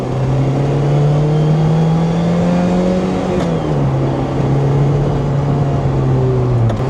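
A Lotus Elise S2 sports car drives along a public road, its loud, steady engine drone heard from inside the cabin with a brief shift in pitch midway and constant road noise.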